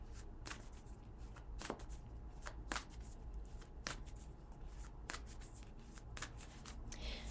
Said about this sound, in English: I'm just shuffling some oracles here